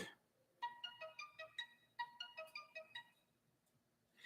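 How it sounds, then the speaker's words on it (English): A phone's notification tones chime repeatedly in two quick bursts of bright electronic beeps, several rapid pings in a row, fairly faint and close, with no talking. "Well, my phone's going. It's going crazy."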